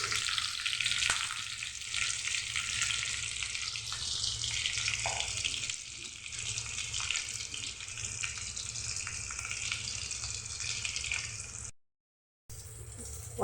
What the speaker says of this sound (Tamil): தேவையான எண்ணெய், கடுகு, வெள்ளைப்பூடு, வெங்காயம் போட்டாச்சு. அதுக்கடுத்து கருவேப்பிலை கொஞ்சம் போட்டுருங்க.